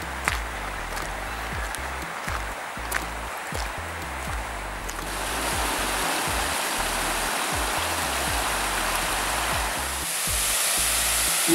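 Steady rushing water, like a flowing stream, fills the scene, growing louder and fuller partway through, with a few faint clicks early on.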